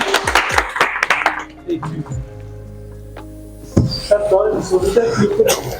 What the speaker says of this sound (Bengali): হাততালি হবে